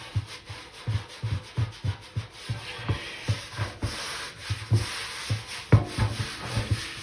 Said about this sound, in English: I am actually shining the copper.